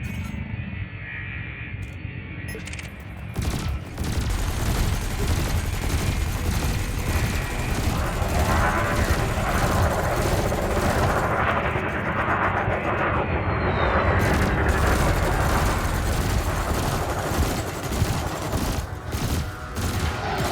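In the space game Elite Dangerous, a ship's burst laser fires at an enemy's shields. Loud, dense rapid bursts ring out over a constant engine roar and continue with short pauses.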